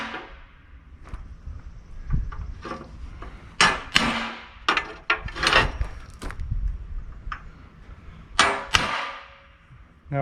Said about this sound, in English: I'm just going to make them a little more pronounced with another center punch